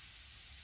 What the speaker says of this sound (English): you can give it a test spray.